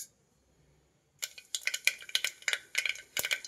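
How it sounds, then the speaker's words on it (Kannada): Mustard seeds splutter in about two tablespoons of hot oil in a pressure cooker: after a short quiet, a burst of sharp, close crackles and pops fires off irregularly. "ಸಾಸಿವೆ ಸಿಡಿತಾ ಇದೆ."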